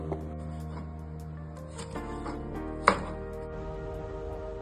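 Ginger, green chillies and coconut pieces chopped finely on a cutting board in a home kitchen, a steady run of close knife taps with one sharper knock partway through, over a low continuous hum.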